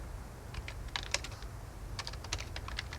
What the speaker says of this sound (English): Hit the Enter key once.